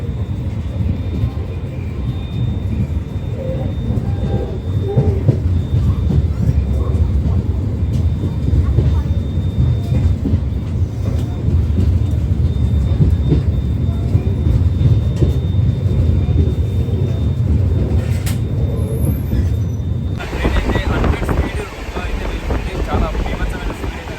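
Ambience at Jammikunta railway station with a train: a heavy low rumble and wind buffeting on the microphone persist for most of the stretch, with a steady tonal whine, then the rumble drops off abruptly near the end.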